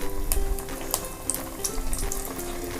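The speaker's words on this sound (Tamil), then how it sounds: "இந்த மாதிரி கட்லெட் ஷேப் பண்ணிவிட்டு நீங்கள் அந்த எண்ணெயில் ஒன்று ஒன்றா போட்டுருங்க." Bread cutlets sizzle as they fry in hot oil, giving a steady close crackle with scattered sharp pops and spits.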